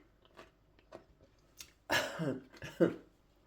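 Someone bites and chews crunchy fresh cucumber with the skin on, giving two loud close crunching bursts after quieter mouth sounds, with no talking.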